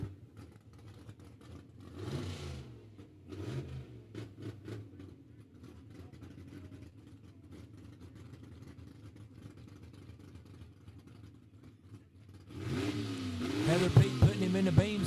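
At a Knoxville Dragway drag race, a car's engine revs from distance with a few low rising bursts, then roars much louder near the end, while an announcer talks throughout.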